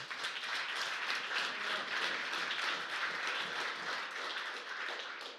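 Sustained applause from a large church congregation during a sermon, a dense steady wash of many hands clapping with no pauses.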